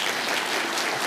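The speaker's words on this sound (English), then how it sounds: "I actually wasn't going for cheap applause there, but thank you very much." A brief, dense wash of applause from an awards ceremony audience, steady and fairly loud for about a second.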